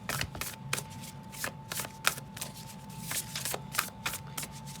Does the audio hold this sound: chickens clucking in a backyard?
no